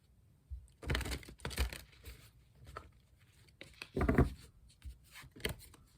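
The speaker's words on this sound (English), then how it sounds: "Let's do some shuffling first." Tarot cards are shuffled by hand in a few quiet bursts of riffling and sliding, close but soft, separated by brief pauses.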